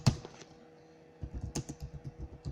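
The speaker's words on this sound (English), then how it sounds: "so let me type" Computer keyboard typing while entering code, a brief clack at the start, then a pause and a run of steady, close keystrokes in a quick uneven rhythm with no talking.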